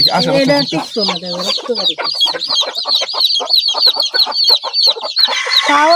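Chickens on a poultry farm cluck steadily and loudly, with dense overlapping calls and a short low vocal burst near the start, the clucking continuing without pause throughout.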